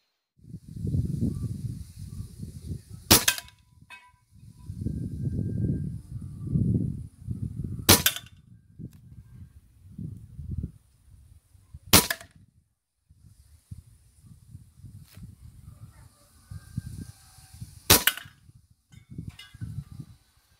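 Air rifle firing pellets during test shooting with a heavy pellet: four sharp, brief shots spaced several seconds apart, with low rumbling handling noise and faint background between them.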